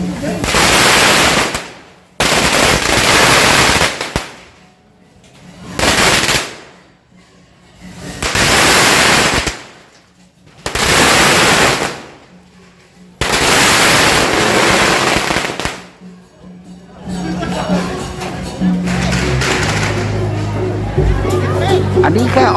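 Strings of firecrackers explode at a Chinese vegetarian festival procession for Guan Yu shrine in Takua Pa, Phang Nga, Thailand, loud dense crackling bursts repeating in long rolls with brief gaps, then fading into crowd noise and a low drone.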